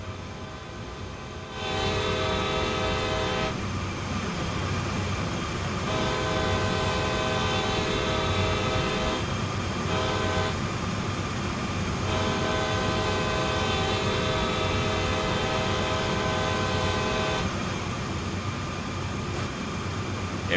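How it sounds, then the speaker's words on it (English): Long heavy freight train horn in Train Sim World 4 on the Antelope Valley line to L.A., sounding several loud sustained blasts at a crossing over a continuous low locomotive rumble. "Let's go ahead and honk the horn."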